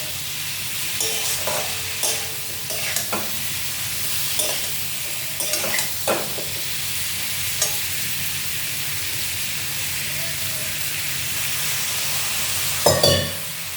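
Vegetable curry sautés in a pan with a little water, a continuous hissing sizzle broken by sharp spoon scrapes and clinks against the pan, with a louder clatter near the end and no talking.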